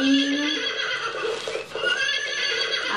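A children's musical toy plays a synthetic donkey bray, a bright electronic whinnying call that runs loud and steady through the moment with a brief dip midway.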